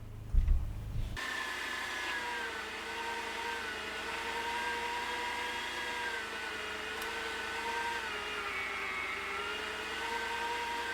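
A motorized grinder runs continuously with a steady, even whir while grinding tallow for rendering at home, after a brief clunk at the start; fairly quiet and constant, no speech.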